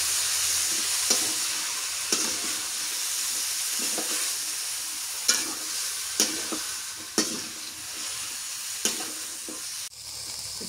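Mixed vegetables for a Bengali banana kandail dish, including taro, potato and kandail, sizzle steadily in a hot pan while being stirred, with periodic scraping clicks of the spoon throughout.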